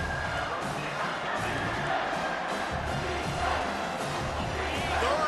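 A stadium crowd in College Football 25 roars steadily and loudly at a Texas A&M versus South Carolina game, a dense, unbroken wall of cheering that holds throughout.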